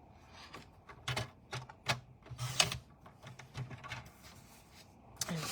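A paper strip 4.5 cm wide is cut for a card-making project, giving a run of close, dry crunching and snipping bursts with short pauses between them.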